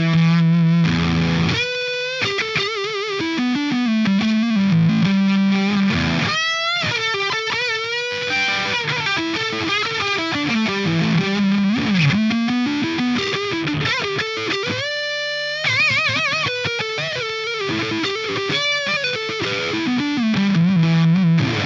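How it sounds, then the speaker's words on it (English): Marshall JVM410JS Satriani signature amp on the OD2 channel with a Hotcake distortion pedal in front, playing loud, sustained distorted electric guitar lead lines with bends and brief pauses, alone without talk. "Finally, OD2 with the hotcake in front of it."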